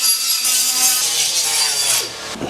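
A power grinder works loudly against the back side of a Willys car door, giving a continuous harsh abrasive whine that winds down near the end.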